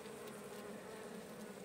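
Honeybees hum at a hive being checked as colonies come out of winter, a steady close drone with no voices over it.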